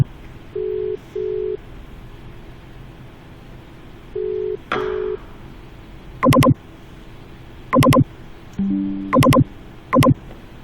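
Phone dialing tones for an outgoing call: two pairs of short steady beeps, then a series of sharp multi-tone keypad bursts at irregular intervals, loud and clean over a faint hiss, with no talking.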